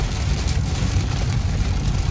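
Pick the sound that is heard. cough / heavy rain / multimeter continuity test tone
heavy rain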